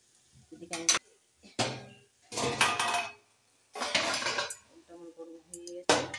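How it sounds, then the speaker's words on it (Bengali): Hot water is poured into mutton kosha cooking in a pan, giving several loud bursts of hissing, splashing and metal pan clatter separated by short quiet gaps. "এবার গরম জলটা দিয়ে দিচ্ছি।"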